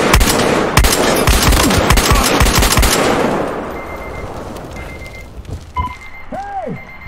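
Rapid bursts of automatic gunfire and single shots from the video game Battlefield Hardline, loud and dense for about three seconds, then fading to distant rattles and faint electronic tones.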